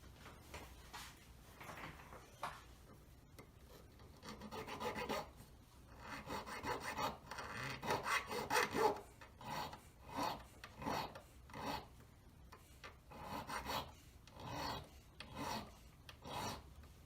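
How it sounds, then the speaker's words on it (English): A metal tube is buffed with sandpaper and a buff stick, producing close, quiet rasping strokes in a loose back-and-forth rhythm, growing busier partway through. "Give it a light buff with your sandpaper, your buff stick"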